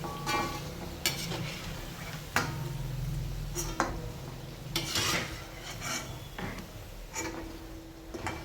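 Cabbage tikka manchurian fritters deep-frying in hot oil over a high flame, a steady crackling sizzle with stirring and scraping knocks throughout, no talk.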